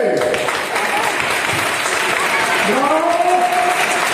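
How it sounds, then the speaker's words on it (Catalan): Applause greets a children's storytelling performance of a folk tale at an awards ceremony, a steady, dense clapping from the crowd with voices and a sung or called tone rising near the end. "Un fort aplaudiment per al mig pollastre!"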